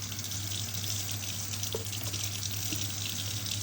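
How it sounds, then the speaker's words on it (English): Tap water runs steadily into a home sink as hands are wet under the stream for handwashing, a continuous close splashing wash with no talking. "The first one is to wet your hands with water"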